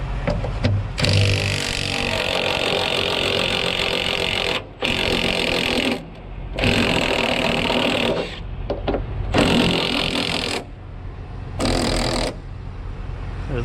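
A 1-inch impact wrench rated around 200 foot-pounds runs in several loud, sustained bursts while unscrewing a bolt on a vehicle wheel after a tire blowout, with short pauses between bursts.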